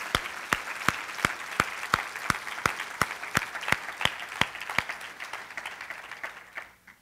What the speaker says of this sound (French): J'aimerais qu'on puisse leur donner une main d'acclamation à Récréation Haïti,